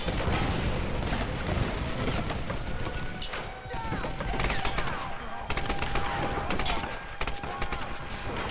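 Rapid gunfire in the 2013 Tomb Raider video game, dense bursts and sharp reports running continuously and loud through the whole stretch amid clattering in-game effects, with no talk over it.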